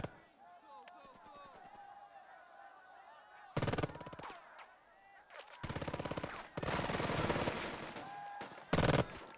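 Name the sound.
gunfire in the video game Burden of Command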